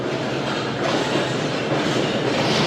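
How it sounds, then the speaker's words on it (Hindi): The Shalimar Express pulls out of Rohri Junction, its steady, loud broadband rumble and rolling wheel noise filling the whole stretch without a break, heard close, with no voices. "2:35 पर दोस्तों ट्रेन रवाना हो रही है रोडी जंक्शन से।"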